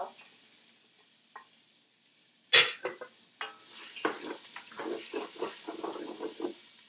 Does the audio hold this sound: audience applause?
no